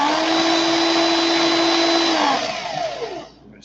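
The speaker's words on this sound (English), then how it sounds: "I'm pulling the tension back on my drill." An electric drill whines steadily while twisting wire, loud and close, then winds down as it slows to a stop near the end.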